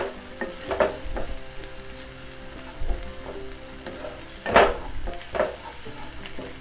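Onion frying with ginger, garlic and green chillies in a pan, a steady sizzle broken by scrapes and stirs of a spatula, with one louder stir near the end; no voices.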